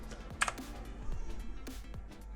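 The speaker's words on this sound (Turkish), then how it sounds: "Klavyemizden sadece eksi tuşuna basıyorum." Rampage ExHero mechanical keyboard with a single key press setting off a macro, a few faint sharp clicks and taps, close and quiet.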